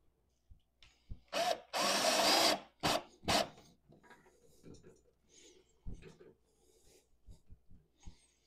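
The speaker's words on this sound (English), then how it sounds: "So we're going to screw these in now." A power drill driving screws to hold the battery bracket of a TCL D1 Pro palm vein smart deadbolt: several close, whirring bursts, one lasting about a second, with clicks and handling knocks between them.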